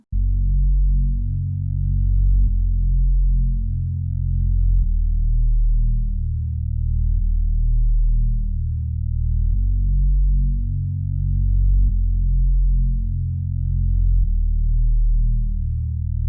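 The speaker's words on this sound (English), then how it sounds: "I ended up adding this bass sound during the pre-chorus section." Deep synth bass from the Foreign Tech drum kit, the Limit Bass, plays a pre-chorus line in a West Coast–style beat, with loud, sustained low notes changing in a steady repeating pattern about every two and a half seconds, alone and without voices.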